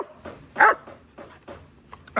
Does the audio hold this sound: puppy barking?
yes